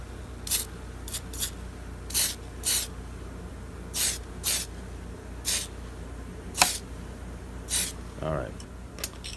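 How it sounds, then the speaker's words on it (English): Short bursts of aerosol spray paint hit BMW widebody tail lights in a series of about ten separate hisses with brief pauses between them, close and moderately loud, with a faint low hum running underneath. "I always spray to start it off over here"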